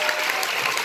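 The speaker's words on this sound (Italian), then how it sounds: "Quindi l'ultimo applauso, ce lo facciamo tutti insieme" An audience at a dance show, Dance in Progress 2019, claps in steady, full applause that fills the room with a dense, continuous patter from many hands.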